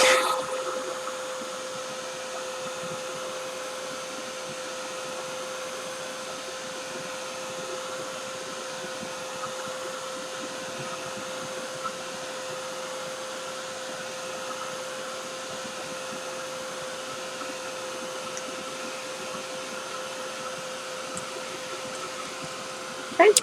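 A hair dryer runs steadily at close range, drying glue or ink on a handmade fall scrapbook layout page, a continuous even whir that holds from start to finish.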